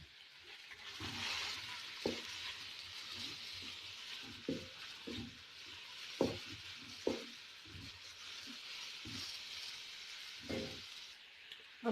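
Carrots fry in a pan with onions, giving a soft, steady sizzle under scattered stirring clatters and scrapes. The sound is fairly quiet and close, with no talking.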